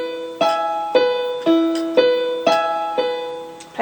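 Solo piano plays a single bar of a song, slow and close, with about seven evenly spaced chords struck one after another, each ringing out and decaying before the next.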